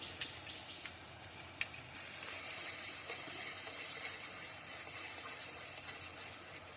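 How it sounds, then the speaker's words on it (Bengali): Cashew and poppy seed spice paste sizzling steadily in a hot pan while being stirred, a soft continuous frying hiss with a few faint clinks, close and moderately quiet, with no talking. "মশলাটা একটু ভালোভাবে কষা হোক"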